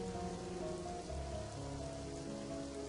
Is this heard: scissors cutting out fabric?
no